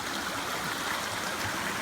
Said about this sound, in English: Real nice water source here.